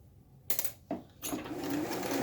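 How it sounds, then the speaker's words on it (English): A sewing machine runs a seam in short bursts, first a brief clatter, a pause with a faint click, then steady continuous stitching close by. "then I'm just going to sew it all the way around"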